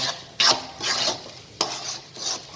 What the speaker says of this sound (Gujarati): હવે આને આપણે હલાવીશું. અને એક ધાર્યું હલાવ્યા કરવાનું, એટલે આપણે વચ્ચે ગાંઠા ના પડે.